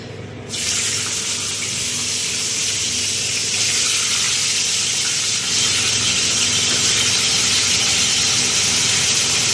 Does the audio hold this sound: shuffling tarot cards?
no